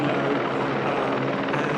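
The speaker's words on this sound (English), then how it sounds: "So lovely shot there over the hills from the helicopter." A helicopter flies over hills at a Ferrari Challenge race at Spielberg, its rotor and engine a loud, steady, close drone with no talking.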